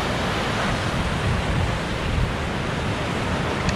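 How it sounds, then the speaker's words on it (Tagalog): Strong surf at Cabungaoan Beach on a rough day after a typhoon, a steady loud broadband wash of breaking ocean waves with wind, continuous and close, no voices. "Malakas pa rin yung alon"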